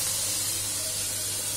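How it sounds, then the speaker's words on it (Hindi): Water poured off mashed boiled taro (arbi) while cooking makes a steady, close rushing hiss that lasts the whole moment without a break. "इसका पानी फेंकने लगी हूँ मैं"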